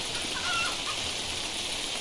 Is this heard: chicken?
yes